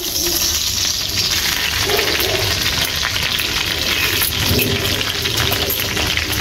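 Loud, crackling sizzle of T-bone steak frying in a pan, with occasional pops and spatters over a constant hiss.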